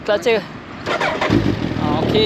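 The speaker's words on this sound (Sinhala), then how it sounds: "මේ බයික් එක පොඩි ස්ටාර්ට් කරලා වෙන්නමුද?" A Suzuki Hayabusa motorcycle engine cranks and catches, then settles into a loud idle close by, after a brief spoken remark.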